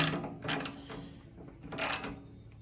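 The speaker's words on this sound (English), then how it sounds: "I got the bolt started. It's just a 10mm bolt. Get that snugged into place" A ratchet snugs a 10mm bolt holding the fuel tank of a ZX6R motorcycle, giving a couple of short bursts of close metallic clicking over a low background hum.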